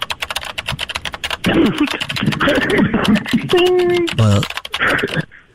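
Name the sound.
typing a note on a computer keyboard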